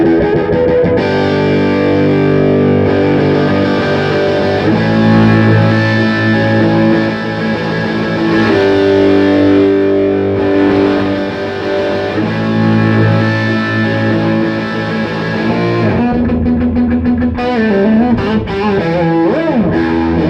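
Electric guitar played through a UAD Marshall amp plugin and miked with an SM57, giving a continuous distorted, chorus-tinged tone with sustained chords and riffs, loud and up close, with no talking.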